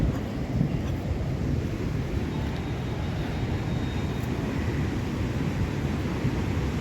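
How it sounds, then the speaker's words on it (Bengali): Wind buffets the microphone at Puri beach near Swargadwar, a dense, continuous roar blending with the broad wash of sea waves, steady and loud throughout, with no voices. "সমুদ্রের খুব কাছাকাছি চলে এসেছি।"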